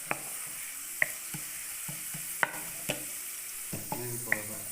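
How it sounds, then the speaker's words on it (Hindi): Onions fry and brown in a pan for a spicy daal mash, a steady sizzle with scattered clinks and scrapes from stirring, close and fairly faint. "ये देखें प्याज ब्राउन हो रहा है।"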